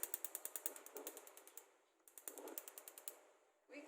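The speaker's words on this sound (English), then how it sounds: "First, you turn the heat on." A stove knob is turned to switch on the heat, making a quick series of sharp ratcheting clicks in two runs, then a short soft rush at the end; close and quiet, with no talk.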